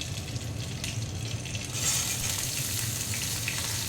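Cut potatoes tipped into hot oil with green chilli for a vegetarian potato and pumpkin curry, giving a steady, loud broadband sizzle that swells partway through as the pieces hit the pan, with no voices.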